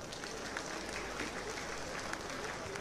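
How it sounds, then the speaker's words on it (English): Audience applause at the Oba of Benin coronation celebration, a dense continuous wash of many hands clapping, steady and fairly distant, with faint crowd murmur beneath. "the men, clap for them one more time."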